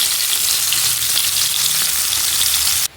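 Fish pieces fry in hot oil with a loud, continuous crackling sizzle and a low bubbling undertone, cutting off abruptly near the end, with no voices.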